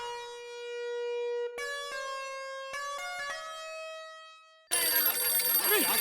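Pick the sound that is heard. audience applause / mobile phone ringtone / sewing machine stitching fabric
mobile phone ringtone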